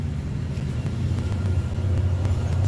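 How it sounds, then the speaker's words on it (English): A school bus passing on a nearby road, a steady low engine rumble that swells slightly as it goes by, with no voices. "School bus is going by."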